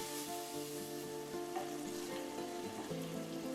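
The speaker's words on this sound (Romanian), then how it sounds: "prăjim la foc mare pulpele, amestecând din când în când" Continuous hiss and crackle of chicken legs frying in butter over high heat, steady and close, with no talking.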